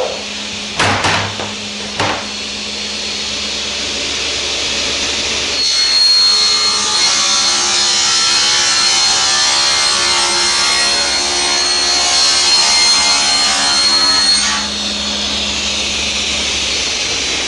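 A table saw ripping a wooden sheet along the rip fence while building cabinet drawers: a couple of sharp knocks, then a steady, close whining cut lasting about nine seconds before fading back to the idling blade.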